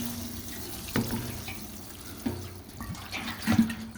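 Water runs from a hose or can into a bucket of wet shredded paper compost, a steady trickling splash with a few louder gurgles and spatters throughout.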